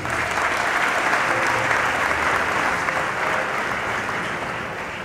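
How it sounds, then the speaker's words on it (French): An audience at a ceremony of the Council of Protestant Bishops in Haiti claps in a broad, steady wash of applause that holds loud and dense throughout, easing off slightly near the end. "sous vos applaudissements"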